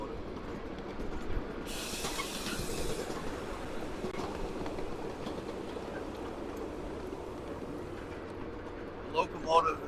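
A miniature scale train locomotive runs with a steady rumble and hiss under outdoor background noise, moderately quiet, with a brief high hiss burst near the start and people talking.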